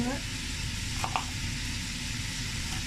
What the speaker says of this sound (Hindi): चिकन हमारा जो है वो भी फ्राई हो रहा है।